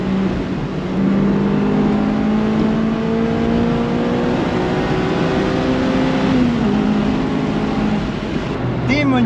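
Honda CR-X engine revving hard through second gear toward 5000–6000 rpm, a loud rising tone climbing steadily and then dropping briefly near the end, heard from inside the car.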